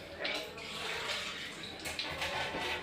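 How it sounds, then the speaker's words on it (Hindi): Water poured into chopped ginger, garlic and green chilli before grinding: a soft continuous splashing pour, fairly quiet and close, with a few brighter splashy bursts and no speech. "अब हम इसमें करेंगे थोड़ा सा पानी का शामिल।"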